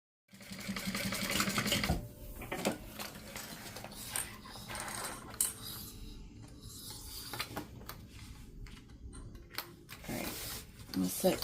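Sewing machine top stitching fabric 1/8 inch from the edge, running in bursts of rapid stitching with brief pauses and fabric handling between runs, close by.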